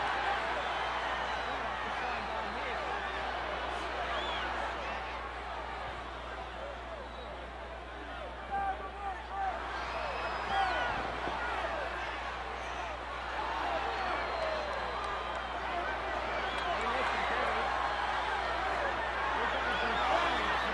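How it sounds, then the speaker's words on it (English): Steady roar of a large arena crowd at an NWA World Heavyweight Championship wrestling match between Buddy Rogers and Pat O'Connor, a dense continuous wash of cheering and shouting that swells slightly midway, heard from within the crowd. "And listen to that crowd."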